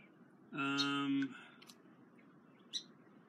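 A bird calls near a kayak on the water, giving one sustained harmonic chirp followed later by a brief, sharper chirp, heard over faint background noise.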